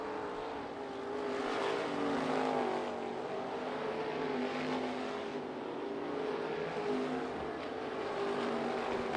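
Sprint cars racing at Bubba Raceway Park, a continuous layered engine roar that swells and fades as cars circle the dirt track, heard from a distance.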